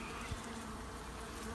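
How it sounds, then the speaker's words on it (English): Bees buzz around a trap-out cone fixed to a brick wall, a steady, close, continuous hum with no voices over it. "You can see the bees coming out, having a bit of trouble getting in"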